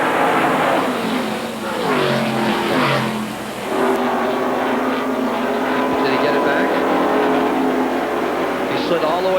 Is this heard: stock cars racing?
yes